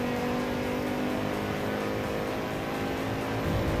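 Audi Quattro five-cylinder engine in the Assetto Corsa Evo racing game, a steady, loud, sustained engine drone with a strong tonal hum, held at near-constant revs throughout with no pauses.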